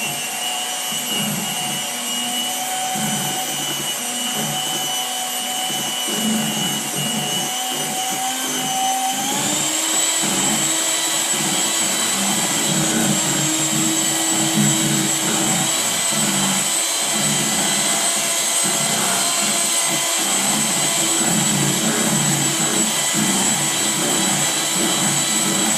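An electric mixer beats eggs into mini cheesecake batter made with cream cheese, a continuous whining motor hum that shifts pitch upward partway through and then holds steady, loud and close throughout.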